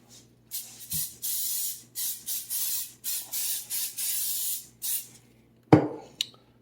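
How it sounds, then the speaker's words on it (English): About eight short hissing bursts of cooking oil spray in quick succession, close and loud, followed by a clack. "let me give it another little spray."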